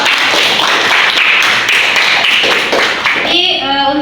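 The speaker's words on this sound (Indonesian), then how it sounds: "Tepuk tangan dulu." Students in a classroom during an Islamic history lesson clap together in a loud, fast burst for about three seconds before a teacher's voice resumes.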